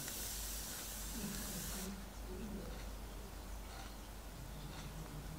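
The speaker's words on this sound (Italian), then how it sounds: "L'ho spruzzato sul viso" An aerosol can of makeup setting spray is sprayed onto a face, giving one continuous, soft, close hiss lasting about two seconds before cutting off into quiet room tone.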